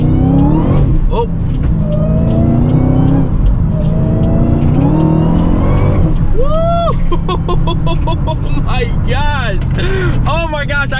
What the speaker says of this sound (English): I want you guys to hear that supercharger whine.